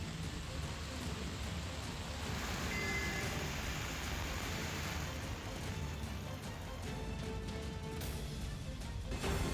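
Heavy monsoon rain pours down steadily on a Mumbai street, a dense, constant hiss of water with scattered sharper spatters and knocks near the end.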